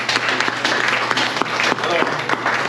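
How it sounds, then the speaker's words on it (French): Conference audience in a Montreal hotel applauding a speaker named Christine, a sustained roomful of clapping with distinct sharp claps standing out over faint murmuring voices. "merci beaucoup Christine, si on peut l'applaudir"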